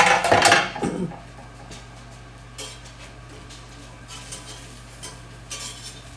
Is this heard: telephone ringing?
no